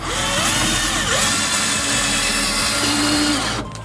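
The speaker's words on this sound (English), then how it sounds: "this basically just screws in, and this will lock this 2x4 into the side of the van" Power drill driving a screw through a 2x4 and into the side of a Sprinter van, a loud steady whine with rising and falling motor pitch that cuts off near the end.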